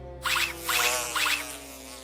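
A swarm of flying insects as a sound effect, a close, loud buzzing drone that pulses in three swells over a low hum.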